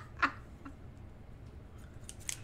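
Scissors snip through sock fabric while crafting a floppy-eared sock bunny: one crisp, close cut near the start, then a few faint clicks of the blades.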